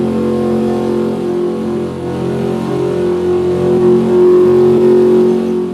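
A ZR-1 Corvette's engine revs steadily and loudly while the car is driven, a dense rumbling drone with rising and falling pitch, close and continuous with no speech.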